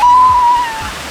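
Atlantic ocean water sloshing and splashing around legs wading into the surf on an Andalusian beach, loud and close, with a brief tonal beep at the start.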